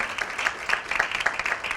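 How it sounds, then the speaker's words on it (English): Audience applause at a dance research congress event in Dadar, Mumbai, a steady mid-level wash of many hands clapping for the full short stretch, with no voices over it. "A big round of applause to them."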